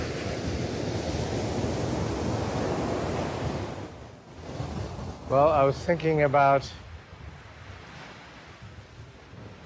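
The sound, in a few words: ocean waves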